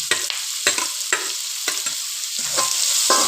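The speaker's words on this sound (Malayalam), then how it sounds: "സവാള, ഇഞ്ചി, പച്ചമുളക് എല്ലാം ഒന്നിച്ചിട്ട് നമ്മൾ വഴറ്റെടുക്കുന്നുണ്ട്" Onion, ginger and green chilli sautéing in coconut oil for a Kerala squid roast, with a steady sizzle broken by repeated scraping stirs of a spoon in the pan, close and alone.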